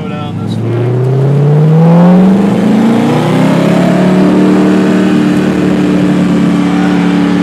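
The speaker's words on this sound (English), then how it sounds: "the LS7 engine is a 427 cubic inch engine, and it's a dry sump aluminum block" A Factory Five GTM with a 427 cubic inch LS7 dry-sump aluminum-block engine accelerates, its loud rising engine note sweeping upward through gears and holding steady near the microphone.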